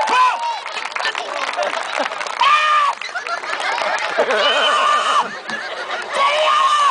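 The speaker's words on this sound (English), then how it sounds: "Ladies and gentlemen, let's give my two volunteers a nice big round of applause." An audience applauds two volunteers at a performer's summer show in Edmonton. Dense, loud clapping runs throughout, mixed with whoops and shouted voices that rise and fall.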